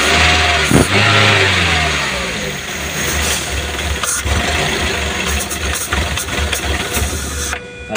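A Daihatsu Gran Max with a dual VVT-i engine cranks and fires, briefly revving before settling into a steady, loud, close idle with a constant low hum and no voices.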